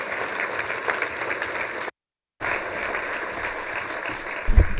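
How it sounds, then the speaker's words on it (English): An audience at a public kick-off event gives a steady round of applause, moderately distant, broken by a brief dead gap partway through before the clapping resumes and continues to the end. "let's give Sam a round of applause."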